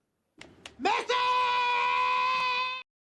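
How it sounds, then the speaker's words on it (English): A baby lets out a sustained high-pitched scream after a couple of short whimpers, loud and close, holding one steady wailing tone for nearly two seconds before cutting off. "Screaming baby."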